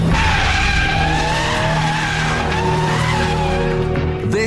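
BMW M3 E92 sports car with tires squealing under hard cornering, a loud sustained screech over the revving engine note, close and continuous without speech.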